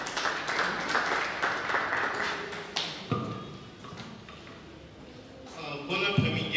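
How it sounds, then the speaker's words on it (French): Applause from an audience at a youth development conference in Congo, lively clapping for about three seconds that thins into scattered taps and thuds, with faint voices and room noise after it. "Sous vos applaudissements,"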